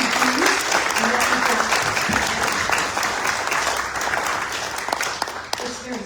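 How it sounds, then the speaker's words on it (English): Applause rises from the audience at a Las Vegas Rotary Club weekly meeting honoring military members, a steady, full clapping from many people that carries throughout, with a few voices faintly mixed in. "a round of applause"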